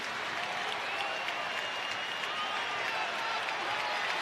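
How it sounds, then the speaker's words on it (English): Baseball stadium crowd at a Cubs home game against the Pirates in the last of the sixth with the bases loaded, a dense steady roar of cheering and clapping, distant and continuous throughout. "the crowd beginning to make a lot of noise"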